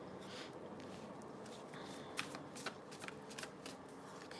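Tarot cards being shuffled by hand, a steady soft riffling and sliding with a few sharper snaps, close and quiet, with no talking.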